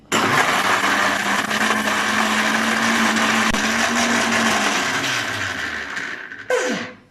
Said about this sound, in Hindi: अब हम इसमें बर्फ ऐड करेंगे और 1 मिनट के लिए ब्लेंड करेंगे ताकि ये ठंडा हो जाए अच्छी तरह